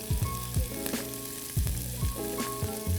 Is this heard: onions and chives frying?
yes